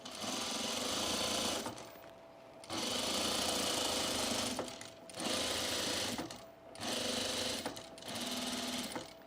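A sewing machine stitching overalls runs in four loud, steady bursts of rapid mechanical whirring and clatter, separated by brief pauses.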